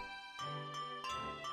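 Bright bell-like jingles and dings from handbells in the Wii Music video game, struck in a few separate notes over a sustained tone, clear and close with no talking.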